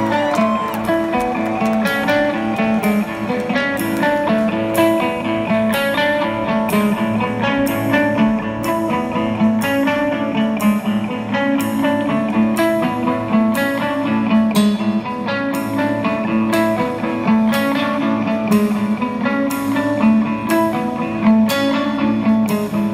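A band plays a song live at The Forum in Inglewood, with loud full-band rock, driving drums and steady cymbal hits sustained throughout.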